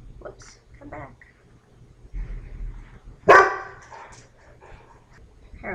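A pet dog at home lets out a sudden loud bark, preceded by a few softer yips and whimpers, with quiet room tone around it.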